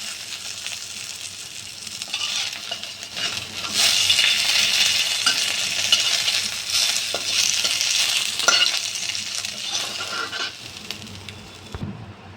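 Fish fries in a pan of oil, a steady close sizzle and crackle that swells louder midway and runs continuously with occasional light scrapes of a utensil, no voices over it.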